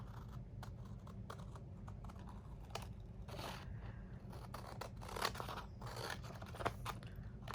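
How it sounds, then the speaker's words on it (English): Scissors trimming a paper junk mail envelope, close crisp snipping and crunching cuts in an irregular series of strokes, with no talking. "Then we're going to trim that off."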